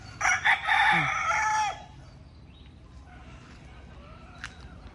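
A rooster crows loudly once, a full rising-and-falling call lasting under two seconds, followed by quieter background rustling.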